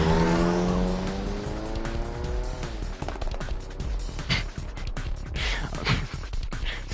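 A taxi engine in the game 428 Shibuya Scramble revs up with rising harmonic whine and tire squeal, then settles into a loud, busy driving roar with clattering bursts, no voices present.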